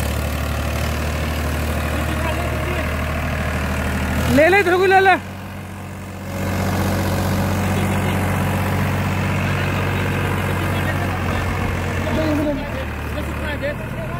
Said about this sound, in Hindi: यहाँ पे सीधा सीधा ये मान के चले कि ट्रैक्टर जो है अपना स्लिपिंग बहुत कर रहा है